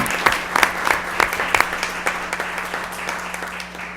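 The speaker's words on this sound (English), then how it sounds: "I'd just like to give a round of applause for the Rittenhouses" Round of applause at a council meeting for a pair of volunteers, a small room's worth of hands clapping in an uneven patter for about four seconds with a steady hum underneath.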